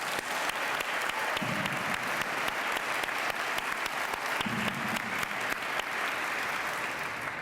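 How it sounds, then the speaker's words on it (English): Steady, continuous audience applause at a Veterans Day remembrance celebration, a dense crowd clapping evenly and unbroken from start to finish. "Let's give them a round of applause."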